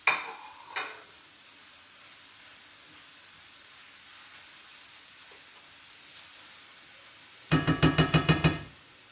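Vegetables for a chicken pot pie sizzle steadily in a pot, a soft continuous hiss broken by a spoon scraping at the start and a quick run of rhythmic knocks from stirring near the end.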